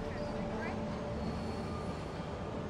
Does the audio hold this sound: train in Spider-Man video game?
yes